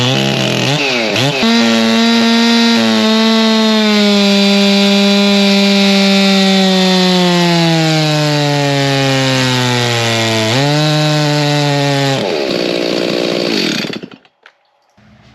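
A Stihl MS361 chainsaw with a muffler mod, an open can with no baffles, runs loud and close at high revs. The engine pitch sags under load, then climbs back before the saw cuts off at the end.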